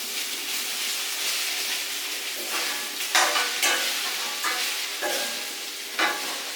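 Flattened rice (poha) is stirred in a frying pan against a constant hissing sizzle, with several distinct scraping strokes from the spatula in the second half. No voices are present.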